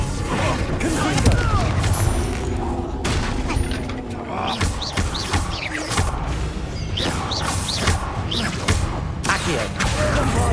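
Confringo fire spell explosions in Hogwarts Legacy on PS5 Pro, booming blasts and crashes in a busy combat mix with music and effects, loud and continuous with other spell impacts throughout.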